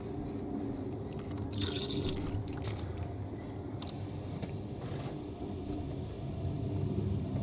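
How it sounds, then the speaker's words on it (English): Water is sprayed through an airbrush into its cup. Wet, bubbly gurgles come first, then a continuous bright hiss fills the second half, close and steady. "Now I'm going to spray water into the airbrush cup."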